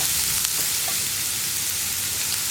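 Sliced onions with salt sauté in a pan for egg roast, giving a steady, loud, unbroken hiss of frying with faint stirring scrapes and no talk.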